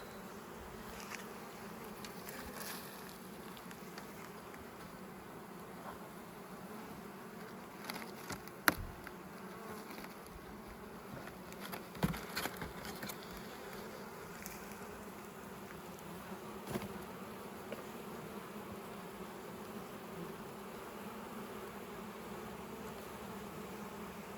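A honeybee swarm in a trap: a steady, dense buzzing of many bees humming together, continuous and close, with a few brief louder passes as individual insects fly near.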